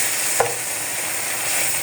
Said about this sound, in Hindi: इसको भी हम प्याज में अच्छी तरह फ्राई कर लेंगे।